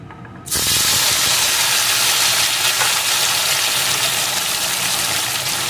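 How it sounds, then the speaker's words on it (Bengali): Chopped tomatoes hit hot oil with fried spices for a sweet-sour tomato pickle, setting off a sudden loud, broad sizzle that holds steady and close after a brief quiet moment. "এখন আমি কেটে রাখা টমেটোগুলোকে এর ভিতরে দিয়ে দেবো"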